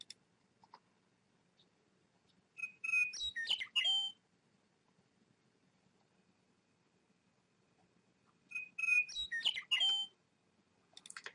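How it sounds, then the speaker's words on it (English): Two separate bursts of bright, warbling meadowlark song, each lasting about a second, separated by long stretches of near silence. "we'll just listen to the sound of the meadowlark."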